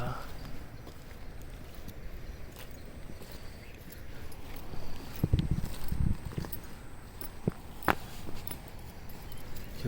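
Scattered shoe footsteps crunch on a dirt trail in Chinnar Wildlife Sanctuary, Idukki, amid outdoor ambience, a few louder steps mid-way, with people talking faintly nearby.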